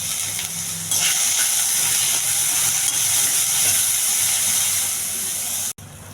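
Ivy gourd and tamarind frying in a pan for chutney give a steady, close hiss and sizzle that runs almost unbroken, dipping only briefly near the end.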